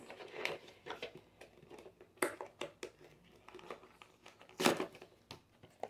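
Packaging of a gift box crinkled and torn open by hand, with irregular bursts of crackling plastic and paper ripping, close and fairly quiet with pauses between.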